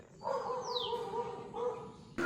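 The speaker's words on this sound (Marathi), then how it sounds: "पक्ष्यांचा आवाज कुत्र्यांचा आवाज" Birds chirp and tweet near a rural Konkan home, with a rising whistled call, while dogs bark faintly in the background; a sharper noise breaks in at the end.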